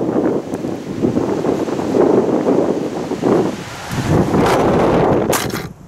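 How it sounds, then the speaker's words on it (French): Strong wind buffeting the microphone on a football pitch, roaring in uneven gusts that swell and fade, loud and close with no voices. "Je vous mets tout de suite une séquence avec le vent"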